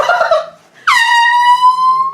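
A single loud air horn blast, sounded as a wake-up prank on a sleeping dad, comes after a moment of hushed voices and a brief pause, then holds steady and piercing for over a second.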